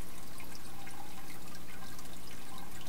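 Water running and trickling steadily during a full 100% water change in an aquarium, a continuous close wash of flowing liquid with no talk.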